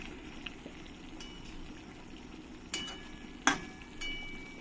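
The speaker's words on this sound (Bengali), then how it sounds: "এবার আমি একবার ভালো করে নাড়িয়ে দেবো, খুব সাবধানে নাড়াতে হবে।" Mourala fish and taro stolons simmer in a pan and get stirred carefully, giving soft steady bubbling with a few close, sharp spoon clinks against the pan.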